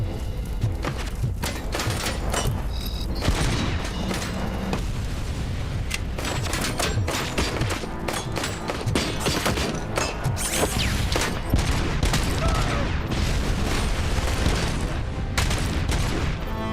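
Continuous heavy gunfire in RoboCop: Rogue City, a relentless barrage of overlapping shots and impacts that stays loud and dense throughout, with occasional booming hits and no clear pauses.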